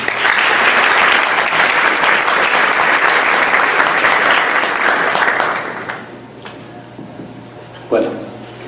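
Strong applause for Pedro from the audience at a professional actuarial event, loud and steady for about five seconds before dying away to room quiet and a brief voice.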